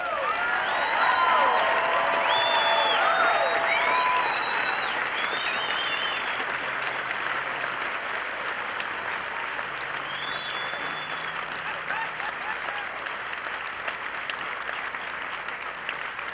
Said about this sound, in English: how about a round of applause for these graduates?